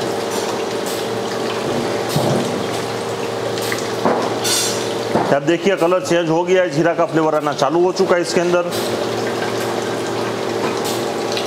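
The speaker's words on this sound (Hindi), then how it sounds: "ये आप देख सकते हैं अभी पानी निकल रहा है इसके अंदर" Water gushes and pumps through lines in a soda filling plant, a steady hissing flow running under someone talking over the machinery.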